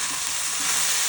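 Thammakaya curry frying in a pan while salt is mixed in, a steady close hiss and sizzle with faint stirring underneath, no voices.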